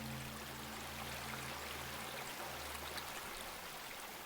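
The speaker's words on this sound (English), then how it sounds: "The water sounds" Water flows steadily in a gentle, continuous wash with a low hum fading out early on, with no voices.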